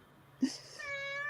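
A single drawn-out cat meow, rising then holding a steady tone, fairly close, with a soft thump at its start and quiet background.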